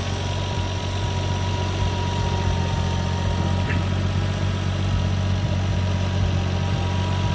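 A 1990 Toyota Supra with its original turbo engine idles steadily and evenly, a low continuous rumble with a regular pulse and faint vibration, close by and with no voices.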